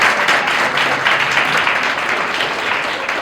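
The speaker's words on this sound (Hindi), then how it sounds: "तालियां एक बार बजा दो बच्चों" Students at a Hindi literature lecture clap together in a brief, lively burst of applause, close and fairly loud, with the patter of many hands continuing evenly until it thins slightly at the end.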